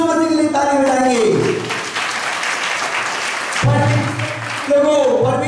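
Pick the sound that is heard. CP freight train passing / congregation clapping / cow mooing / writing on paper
congregation clapping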